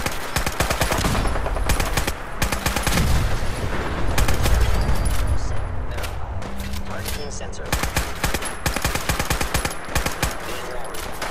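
In the Fallout 4 battle at Bunker Hill, dense gunfire rattles continuously, with rapid automatic bursts and sharp single shots overlapping loudly for the whole stretch, mixed with low booms and faint voices.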